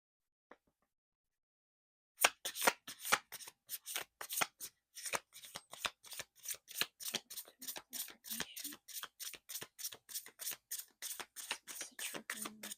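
Affirmation cards are shuffled in a quiet room after a brief silence, producing a long run of crisp, rapid riffling slaps and flutters, close and soft, with no one talking.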